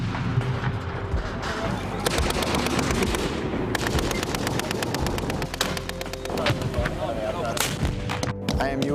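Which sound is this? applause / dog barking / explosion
explosion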